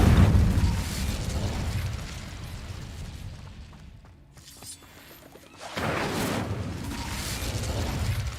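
The Incendio fire spell is cast in Hogwarts Legacy with a loud burst of flame and a blast at the outset that tapers into a quieter stretch, then a second roaring surge of fire returns near the end.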